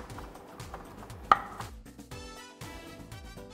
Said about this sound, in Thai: กระเทียมก็จะสับ